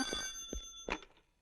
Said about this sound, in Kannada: ಮೊದ್ಲು ಫೋನು.